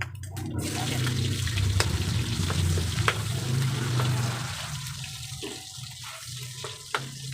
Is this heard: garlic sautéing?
yes